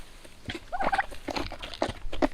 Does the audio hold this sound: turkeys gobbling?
yes